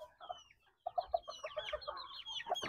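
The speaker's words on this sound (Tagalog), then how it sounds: "Ito yung funky chicken ko mga kodyo" A Livorno or bantam chicken clucks in a quick run of short, close clucks after a brief pause, with some faint squawks over a quiet farmyard background.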